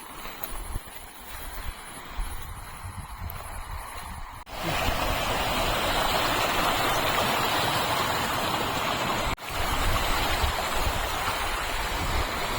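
Loud, continuous rushing water from an overflowing dam, close by and roaring without a break, with quieter surroundings and some handling noise before it.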